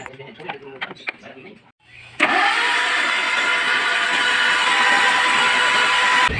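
A few seconds of talking, a short pause, then a flooded Suzuki APV engine with its spark plugs removed cranks loudly and steadily without catching, expelling floodwater, whirring on until the end.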